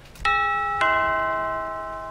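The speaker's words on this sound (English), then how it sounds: "we're going to go ahead and ring the doorbell" A doorbell rung inside the video game GTA 5 gives two loud, bright chime strikes, the second following about half a second after the first, both ringing out and slowly decaying with no talking.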